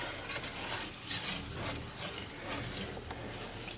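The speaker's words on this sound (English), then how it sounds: "now we just whisk this." Eggs being whisked in a bowl, a soft, steady rubbing and scraping rhythm that is fairly quiet and continuous, with no talk over it.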